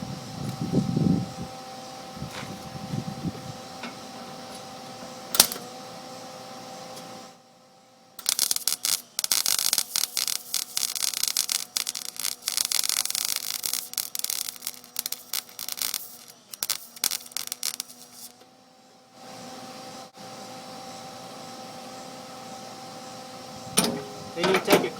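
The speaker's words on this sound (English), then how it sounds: "So I'm going to weld these, and then I'll be welding some up on the inside" Plug welds are laid on the outer wheelhouse of a Mustang restoration, bringing bursts of loud crackling, sputtering arc noise of several seconds each, separated by quieter stretches with a steady machine hum and brief voice sounds at the start and end.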